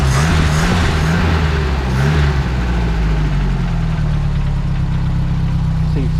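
A Renault R8 engine with heavy blow-by idles steadily and loudly up close, a low throbbing drone with a slight uneven pulse early on, running continuously throughout.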